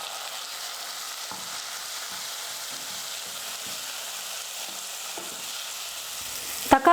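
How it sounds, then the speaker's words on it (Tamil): Cut tomatoes sautéing with softened onions in a pan for brinjal drumstick sambar, a continuous even sizzle with occasional soft stirring taps, ending in a brief louder clatter. "தக்காளி நல்லா வதங்கினதுக்கப்புறமா"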